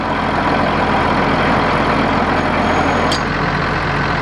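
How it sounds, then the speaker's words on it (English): The diesel engine of a Nuhn crawler agitation boat runs steadily and loudly close by, a constant low rumbling drone with no break, broken once by a brief high squeak. "Start the engine from the remote."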